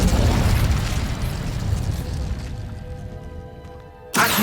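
In Hogwarts Legacy, a cast Incendio fire spell lands as a loud, rumbling blast that swells at once and slowly dies away, followed by a sharp new burst at the end.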